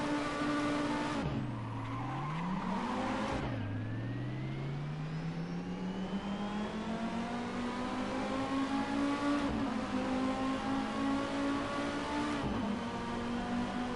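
A VLN race car in the Assetto Corsa racing game, its engine note sweeping up through the gears with sharp drops at each shift, loud and continuous throughout.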